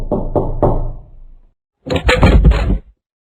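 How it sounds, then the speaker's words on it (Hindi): Close, loud knocking on a house door, three firm raps followed by a pause and then a quicker cluster of heavier knocks. "कोई उसके घर का दरवाजा खटखटा रहा था"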